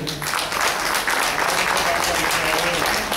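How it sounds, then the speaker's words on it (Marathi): A crowd applauds during a Navratri celebration at the Shri Ambabai temple in Hupari, a dense steady wash of clapping with voices mixed in. "एकदा सर्वांसाठी आणि अर्थातच या नवन सृजन सोहळ्यासाठी जोरदार टाळ्या होत होते"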